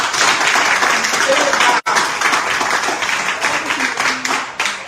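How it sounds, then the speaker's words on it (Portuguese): A gathering claps for journalists, a crowd's hands in uneven bursts with a brief drop partway through, a voice speaking over part of it. "uma salva de palmas a todos os jornalistas"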